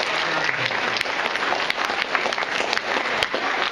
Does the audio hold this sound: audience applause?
yes